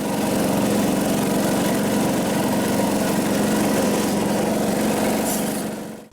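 A Craftsman utility vehicle's engine runs steadily at a loud, even drone for several seconds, then begins to cut off at the very end.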